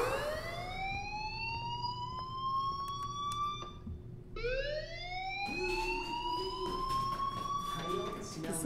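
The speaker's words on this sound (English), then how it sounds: "Hey, do you hear that fire alarm?" School alarm in the video game Life is Strange, heard as a loud rising siren wail that sweeps up, cuts off briefly, then rises again, with a voice talking over it.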